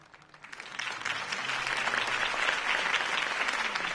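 Audience applause in the Batman: The Telltale Series video game, a crowd's clapping swelling in over the first second and then holding as a dense, steady roar, moderately distant.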